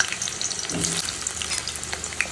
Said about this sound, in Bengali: এখন এখানে তেল দিয়ে দিয়েছি আলুগুলোকে লাল লাল করে মাংসের জন্য ভেজে নেবো